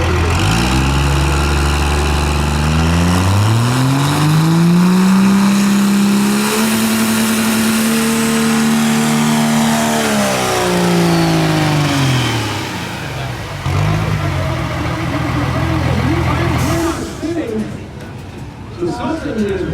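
A race truck with a faulty transmission revs hard on a run, its engine note climbing steeply, holding a loud high whine, then dropping away as it eases off, with rough mechanical noise near the end.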